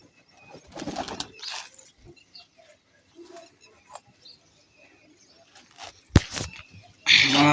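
Pigeons just released from a box coo and flutter nearby in soft, intermittent calls, broken by rustling, a sharp thump and a burst of louder noise at the end, with a voice heard talking at times.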